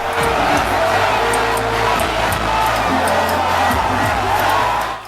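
A large crowd of university students at the University of Cape Coast in Ghana welcomes the NPP presidential candidate at a campaign rally, a loud, sustained roar of cheering and shouting.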